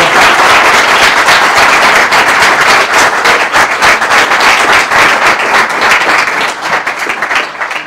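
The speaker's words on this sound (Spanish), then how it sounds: "un aplauso a sus alumnos." Students in a school break into loud, close applause, a dense burst of clapping that holds strong for several seconds before thinning slightly near the end.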